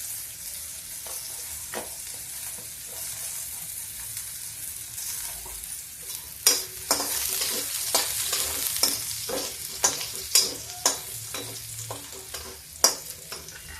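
Garlic and asafoetida sizzle and fry in an iron kadhai, a steady crackling hiss with sharper pops and stirring scrapes growing busier toward the end, close and alone without talk.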